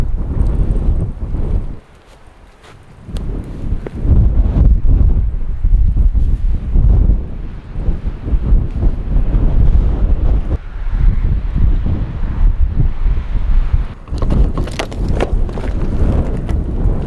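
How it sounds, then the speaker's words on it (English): Strong wind buffeting the microphone in loud, gusty rushes, dropping briefly once before roaring again, with no voices. "It's gonna be a little bit windy up here tonight"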